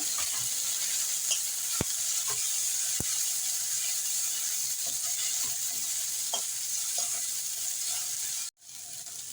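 Garlic and ginger are stirred in hot oil in a frying pan, with a soft steady sizzle, occasional light scrapes and taps of a spoon, and a sudden brief dip in the sound near the end.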